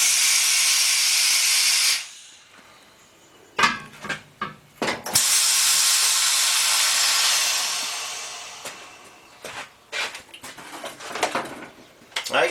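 A pneumatic rim clamp tire machine clamps the inside of a Willys wheel rim: loud bursts of air hiss, one long blast at the start and another mid-clip, separated by sharp clanks and rattles of the clamp jaws.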